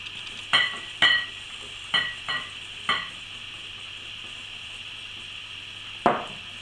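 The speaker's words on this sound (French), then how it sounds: "on remue énergiquement et on incorpore la farine dans la préparation" A utensil vigorously stirs flour into hazelnut cake batter, producing six sharp ringing clinks against the bowl in an uneven rhythm over a quiet, humming background.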